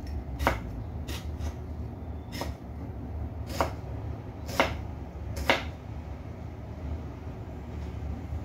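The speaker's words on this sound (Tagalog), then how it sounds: "hinihiwa ko na ang kamatis" A knife slices a tomato on a board in about seven separate cuts, each a short crisp stroke, over a low steady background hum.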